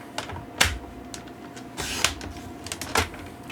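Paper trimmer slicing paper, a few sharp clicks and short scraping swipes spread irregularly, close and fairly quiet.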